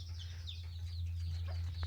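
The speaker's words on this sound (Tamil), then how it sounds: "ரெண்டு கோழி அவயத்தில் உட்காந்துருக்கு பாருங்க" Two brooding hens sitting on eggs in a newly built chicken coop on a farm, giving faint, soft clucks and calls over a steady low hum.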